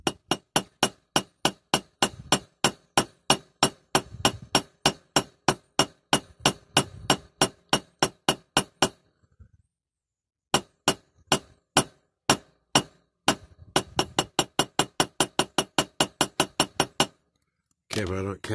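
A hammer strikes a die-cast Dinky Toys No. 555 fire engine during restoration with dozens of sharp metallic taps in an even, fast rhythm. The blows pause for about a second, then resume and stop near the end.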